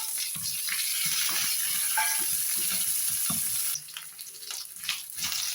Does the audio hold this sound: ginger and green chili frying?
yes